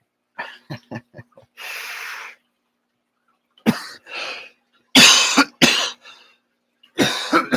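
A person coughs repeatedly, with a quick burst of short coughs, a raspy breath, then several harsh, loud coughs spaced apart, close and with no talking.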